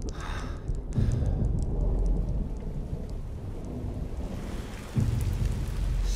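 Rain pours steadily with rolling thunder in a TV drama scene, a loud rumble opening near the start and another crack breaking in later, with no voices.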